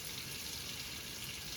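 Hot water running steadily from a tap, a faint continuous hiss and splash with no change over the short stretch and no voices.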